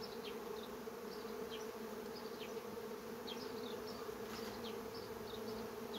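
Honeybee colony droning steadily inside a hive box after a recent move to a new box, a continuous close buzz with individual bees zipping past now and then, no voices.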